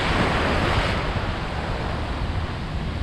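Atlantic Ocean surf rolling onto the sand at Daytona Beach, Florida, a steady broadband wash of breaking waves close by with some wind buffeting the microphone, continuous for the whole stretch and with no voices.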